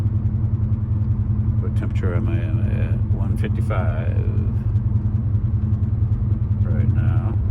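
A Callaway SuperNatural Impala SS engine, freshly restarted after cooling down for exhaust manifold gasket work, idles with a steady low, throbbing rumble. Someone talks over the engine throughout.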